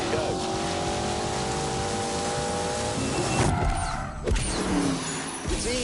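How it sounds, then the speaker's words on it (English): BMW 8 Series with four-wheel steering driving fast, a steady car engine and road roar throughout with a brief shift in tone partway, under occasional speech. "It's a BMW. And the four-wheel steering, and the 8 Series is exactly what you'd expect."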